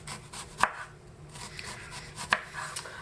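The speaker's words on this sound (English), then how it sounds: "Slice that. Some onions." Onions being sliced thinly with a knife on a board, two distinct crisp cuts with quieter rubbing in between, close by in a home kitchen.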